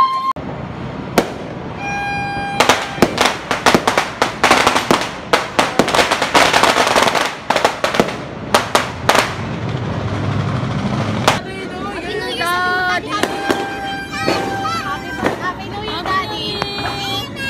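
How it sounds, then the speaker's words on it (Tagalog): New Year fireworks and firecrackers burst in rapid, loud cracks and bangs, some close and some farther off, followed by scattered pops and whistling tones with voices in the background. "Kaya naman tamang nood na nga lang ng mga fireworks dito"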